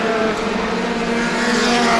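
NEMA Lite race cars roaring around Star Speedway, a steady loud engine drone from several cars held throughout without pause, close and continuous.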